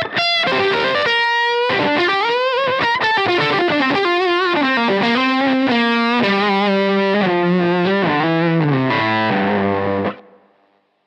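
Electric guitar through a JHS 3 Series fuzz pedal, a saturated, buzzy fuzz tone playing a melodic run of sustained notes and bends, loud and close, ending in a held note that cuts off.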